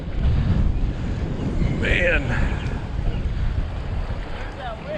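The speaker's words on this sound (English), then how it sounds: "I had no idea it was supposed to get this windy." Strong wind buffets the microphone at a city pond, a heavy constant rumble and roar throughout with faint water sounds and a brief voice partly buried beneath it.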